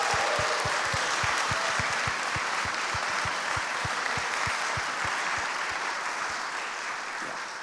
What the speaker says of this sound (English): So a big applause for them, everyone.